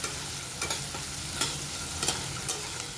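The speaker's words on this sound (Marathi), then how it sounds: "ही डाळ आपल्याला तेलामध्ये परतून घ्यायची" Chana dal sautéed in hot oil, giving a constant sizzle broken by a few regular scraping stirs of a spoon against the pan, close up with no voices.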